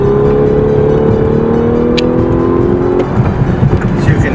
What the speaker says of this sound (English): if I punch it, you get the sound, you get more response out of the car.